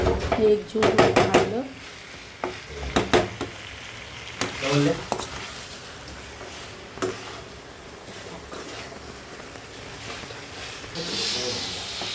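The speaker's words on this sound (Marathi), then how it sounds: "मस्त असं परतून घ्यायचं" Half a kilo of mutton sautéed in a pan: a burst of loud rapid scraping and clanking of a spoon against metal, then scattered stirring strokes over a continuous sizzle, close up; a voice may be faintly present.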